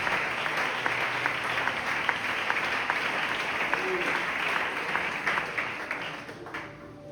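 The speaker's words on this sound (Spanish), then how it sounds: "Dale ese fuerte aplauso para el Señor." A church congregation applauds together during a Spanish-language sermon, a dense, steady wash of many hands clapping that holds for about seven seconds, then thins and fades toward the end.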